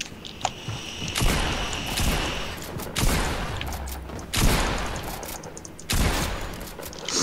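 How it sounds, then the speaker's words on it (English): Gunfire in the Fortnite video game, with several loud bursts of shots arriving every second or so over a steady game background, closely spaced and fairly near. "He's shooting me now."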